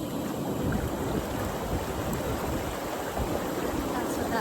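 Jets of a Salute Spa portable hot tub churn the water with a steady, loud, continuous bubbling rush that never lets up, with no talking over it.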